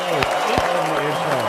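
Applause and cheering from a podcast audience greet guest Carlos Bartell, a realtor, filling the short stretch with dense clapping while a voice talks over it.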